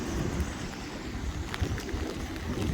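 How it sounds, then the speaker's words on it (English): Strong hurricane wind buffets a marina with boats tied up, a steady low roaring rush with gusty swells and faint rattles, close and continuous with no voices. "this wind is relentless and it's going to double in speed tomorrow"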